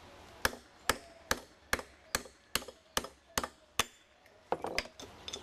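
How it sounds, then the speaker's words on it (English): Wheel studs being hammered out of an old car hub with a bolt threaded onto each, about a dozen sharp metallic whacks at a steady, roughly even pace, close and loud. "So on the old hub, we gotta hammer out the studs"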